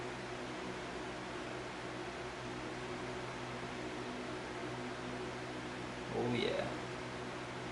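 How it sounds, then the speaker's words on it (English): Electric fan running in a garage on a hot day, a steady broadband whooshing hum throughout, with a brief spoken comment near the end. "Sorry if there's like a noise of what sounds like a fan because, well, it is a fan."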